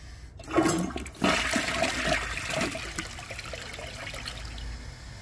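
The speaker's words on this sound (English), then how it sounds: "Well, I guess now it's pretty much full, so I'll give it another flush." A 2014 Vortens Murano toilet flushing while nearly full: a sharp onset, then a steady rush of water that settles into a trickling, draining flow, close and fairly loud, with no talk.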